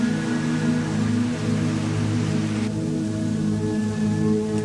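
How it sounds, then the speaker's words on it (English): Steady rain falling in the small town of Elberton, Georgia, an even wash of patter that continues without a break over a low, constant droning hum. "A rain began to fall as I entered the small town of Elberton,"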